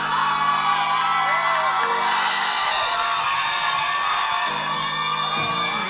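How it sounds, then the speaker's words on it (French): A concert crowd at a festival set cheers, whoops and yells loudly and continuously, dense massed voices close and sustained throughout. "sous vos applaudissements"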